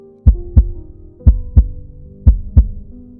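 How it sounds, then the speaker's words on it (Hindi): A heartbeat sound effect in a spoken horror story set on a haunted train, with deep thumping lub-dub pairs repeating steadily three times, close and prominent over a faint low hum. "दिल तेजी से धड़कने लगा।"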